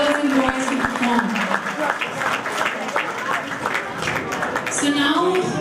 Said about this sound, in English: a big round of applause for these beautiful, beautiful girls and boys who perform